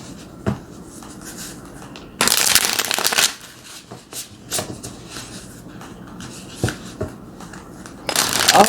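Tarot cards are shuffled up close, with rustling, riffling bursts and softer sliding card sounds in between, crisp and intimate with no talking.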